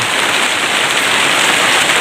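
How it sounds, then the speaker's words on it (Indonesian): Heavy rain pours into a leaking house, a loud dense hiss of water on surfaces that runs steady and unbroken throughout, with no voices. "air hujan masuk ke dalam rumah"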